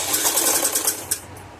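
A sewing machine stitches piping onto saree fabric for a latkan tassel, a quick burst of rapid, rhythmic needle clatter that eases off near the end.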